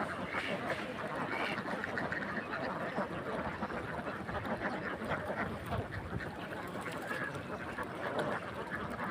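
A flock of black Kingraj ducks quacks in a dense, continuous chorus of overlapping calls, loud and close, on a farm with water nearby.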